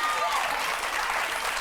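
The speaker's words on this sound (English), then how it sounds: "Clap now." An audience at a televised debate on rent control in Nigeria breaks into applause, a brief, full burst of many hands clapping that carries steadily at close range.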